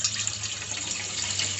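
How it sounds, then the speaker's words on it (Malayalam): A litre of milk is poured into a cooking pot for palada payasam, a steady, close splashing and gurgling stream that runs continuously without a break. "നമ്മൾ എടുത്തു വെച്ചിരിക്കുന്ന 1 ലിറ്റർ പാല് പാത്രത്തിലേക്ക് ഒഴിക്കണം"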